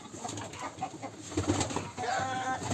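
Pigeons of the black-winged (kara kanat) breed coo softly in a village coop, low murmuring calls repeating over a faint background, fairly close and alone without speech.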